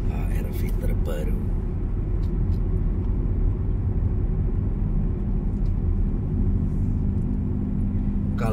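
Steady low road rumble from inside a new Honda HR-V as it drives along, a continuous close engine and tyre drone that runs the whole time with a brief burst of talk near the start.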